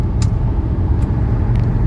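A 1985 Mercedes 300TD wagon cruising on a highway, its steady low road rumble and engine drone continuous and fairly loud from inside the cabin, with no talking.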